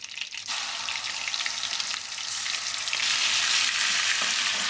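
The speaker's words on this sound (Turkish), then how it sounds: "Sosu ekliyorum." Breakfast pepper-paste sauce with sucuk poured into a hot pan, a loud, continuous close sizzle that swells after the addition, with light stirring and no speech.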